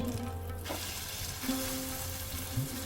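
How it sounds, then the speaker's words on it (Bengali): Pitha frying in a covered pan over a medium gas flame, a soft, steady sizzle with a low hum and a couple of faint clinks, with no talk. "এবার গ্যাসের আজ মিডিয়ামে রেখে ঢেকে তিন মিনিট মতো ভেজে নেব"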